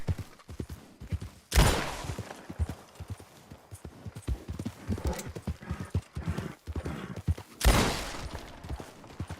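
Horse hooves clip-clopping in a video game, quick steady hoofbeats close by, broken twice by loud bursts.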